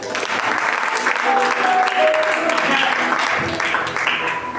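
A church congregation at a French-language prayer vigil applauding Jesus, loud sustained clapping from a large crowd filling the whole stretch, with voices mixed in.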